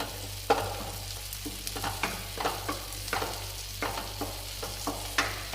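Gravy sautéing in a pan over a low flame, giving a close, steady sizzle with regular scraping stirs of a spoon, alone with no speech.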